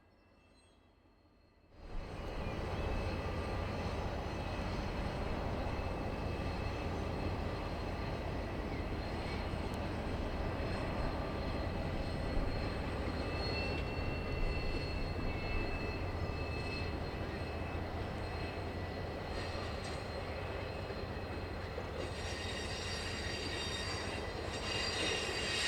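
A heavy diesel locomotive, DFB 7282, rumbles steadily and close by as it moves to a turntable in Taumarunui, its engine drone constant with faint metallic wheel squeals, starting abruptly after a quiet moment.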